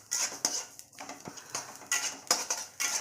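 Garam masala spices stirred and roasted in a pan over low heat, with a spoon scraping and clinking against the metal in a steady, close run of short strokes.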